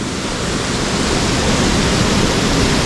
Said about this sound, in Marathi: शांत वातावरण एकदम फक्त खळखळ वाहणारा हा धबधबा